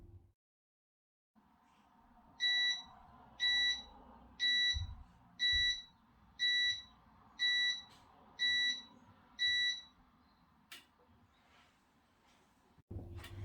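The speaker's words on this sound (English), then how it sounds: "Come back in 4 hours or when the beeper sounds 8 times." A Panasonic SD-253 automatic bread maker sounds its beeper eight times, evenly spaced short electronic beeps in a quiet kitchen, followed by a couple of faint clicks.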